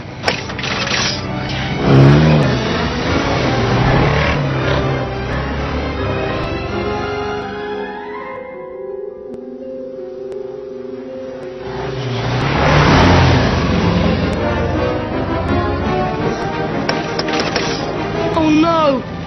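A flying Ford Anglia car engine in a Harry Potter film, droning and revving steadily with rising and falling pitch sweeps, fading briefly in the middle before surging back, mixed with music and effects throughout.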